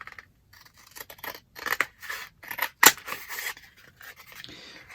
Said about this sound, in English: I'm literally just going to cut in half down the front, either side. So get my big scissors for that.